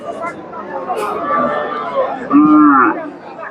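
A crossbred dairy cow at a busy rural cattle market moos once, loud and close, near the end. Voices and market hubbub run underneath throughout.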